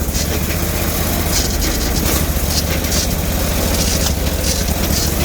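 Bolens Hydro garden tractor with a 20 HP Briggs V-twin engine running steadily, a loud close rumbling drone with a rough, uneven edge and scratchy noises, occasional backfires likely buried in the constant roar.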